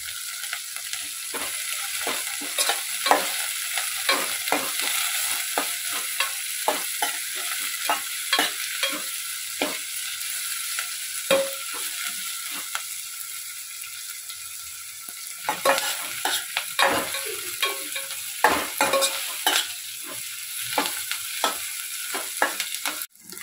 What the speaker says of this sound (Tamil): பொன்னிறமாக வதங்கினு வேண்டாம், கண்ணாடி பதத்துக்கு வதக்கி எடுத்துக்கலாம்